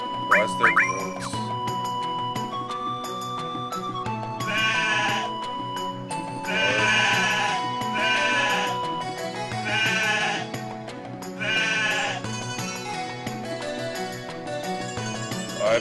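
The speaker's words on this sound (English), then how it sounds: "Why is there goats?" Repeated bleats from goats in a video game sound over a jingling, melodic background tune, the cries coming roughly every two seconds, loud and close.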